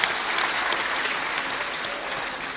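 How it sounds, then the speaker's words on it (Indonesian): Sustained applause from an audience at a speech event, dense, steady clapping that holds at an even level throughout, with no voices on top. "Saya tepuk tangan untuk Mas Nando."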